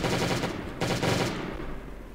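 A fully modded M16 fires in the survival video game Last Day on Earth, a rapid burst of loud, closely spaced gunshots with a short decaying tail.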